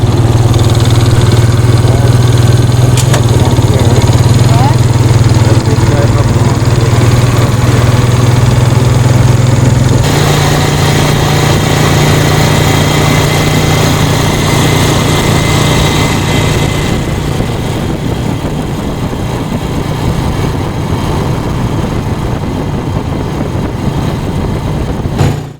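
A Honda vehicle's engine drones loudly and continuously while driving across the dry Alvord Desert playa, its pitch shifting around the midpoint as the wheels roll over rough ground, with no talk.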